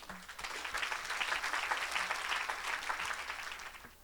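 A church congregation at an evangelistic service applauds and cheers in acclaim of the Lord, a dense sustained wash of clapping heard from a moderate distance, swelling slightly then easing off.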